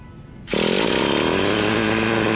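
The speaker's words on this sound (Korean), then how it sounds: "바로 걸립니다 이렇게 시동 바로 걸리는 거예요" A nitro-powered Traxxas Rustler RC car engine catches after a short quiet moment and immediately settles into a loud, steady, high-pitched buzzing idle that runs without a break to the end.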